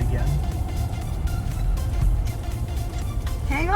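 A Cadillac Escalade engine with a K&N cold air intake pulls under acceleration with a steady, throaty hum heard from inside the moving vehicle, while voices talk over it.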